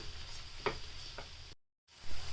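Salted broad bean curry sizzles steadily in a pan as a spoon stirs it with a couple of brief scraping strokes, then everything goes silent for a moment before the soft sizzle returns under a lid.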